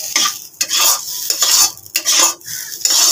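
Leafy greens frying in a pan while a utensil stirs and scrapes them in repeated close bursts over a light sizzle, with no talking.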